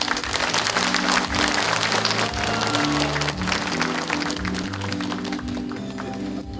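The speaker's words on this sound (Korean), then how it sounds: "한 분 한 분 소개해드릴 때마다 큰 박수로 환영해 주시기 바랍니다." Audience applause greeting guests being introduced at a regional forum on military-civilian coexistence and living conditions in Gunwi County, a dense, loud clapping texture with low music or hum running steadily beneath it.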